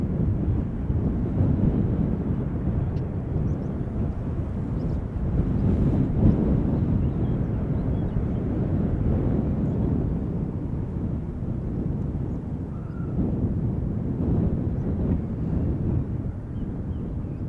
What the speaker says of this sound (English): The 747 is already going.